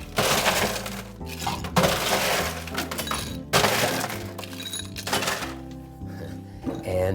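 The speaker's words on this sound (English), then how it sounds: "Fill her up full of ice." Ice cubes rattle and clatter into a cocktail shaker in several loud bursts, clinking against metal, while music plays underneath.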